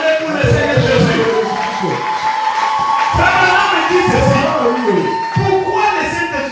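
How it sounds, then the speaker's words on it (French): Church congregation at a French-language service cheering and acclaiming the Lord together, a loud sustained crowd of shouts and voices that swells and dips throughout. "Acclamez pour le Seigneur Jésus."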